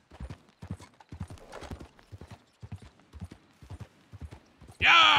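Horse hooves clip-clop in a steady, even rhythm on the road in the Western video game Red Dead Redemption 2, close and distinct against a quiet background, before a loud burst of sound cuts in at the end.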